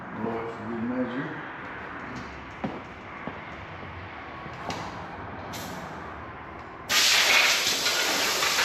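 Compressed air blasts out of a nozzle onto a 2013-2014 Ford F-150 3.5 EcoBoost engine part, a loud steady hiss starting partway through after quieter workshop rustling and a few light knocks.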